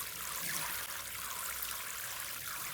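Water pours steadily onto cocopeat, a soft continuous trickling wash with no break, fairly faint and unaccompanied by voices.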